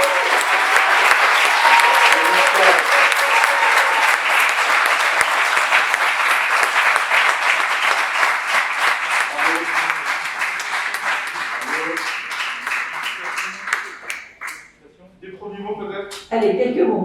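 A ceremony audience applauds the prize-winning team Gaming Squad, loud dense clapping that holds steady then thins out and fades, with a voice speaking as it dies down.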